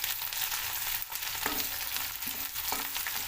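Finely chopped onion sautéing in hot oil in a wok with cumin seeds, a steady broadband sizzle with a few soft stirring scrapes near the end.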